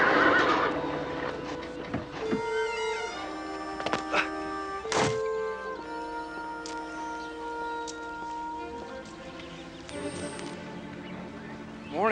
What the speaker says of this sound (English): strolling through the rows of stalls, greeting the horses